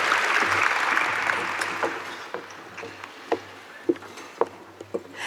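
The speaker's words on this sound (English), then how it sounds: "let's have a nice round of applause" Audience applause at a teacher of the year awards ceremony honouring substitute teachers, a broad wash of clapping that fades over several seconds, leaving scattered thumps and a few isolated claps.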